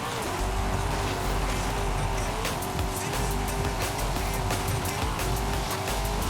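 A Corvette in Forza Horizon 5 drives off-road, its engine droning loudly and steadily while tyres scrub and skid over rough ground, continuous and close with no voices.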